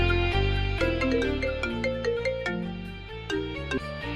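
A mobile phone ringtone plays a bright melodic tune of quick stepped electronic notes, clear and continuous over several seconds with no voices.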